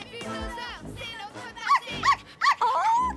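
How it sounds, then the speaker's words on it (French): A small dog gives several short high yips and whimpers, close by and mixed in among people talking. "Oh, quel joli petit chien."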